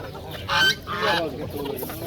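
Roosters and other fowl call out in short, close cries at a bustling poultry market, two brief loud calls standing over background clamour.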